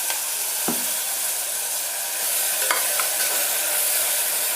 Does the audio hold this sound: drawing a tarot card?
no